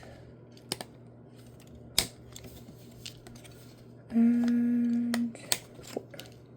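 A hand-held corner rounder punches rounded corners on white card stock, giving a few sharp, separate clicks over a steady low hum, with a longer whirring stretch near the end.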